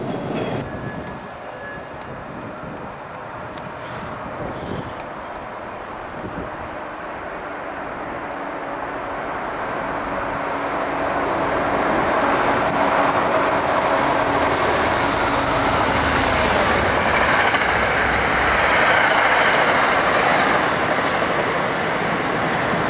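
Amtrak trains pass at rush hour near Boston, a broad rushing rumble of rail cars that builds slowly and grows louder and nearer over the stretch, with no talking.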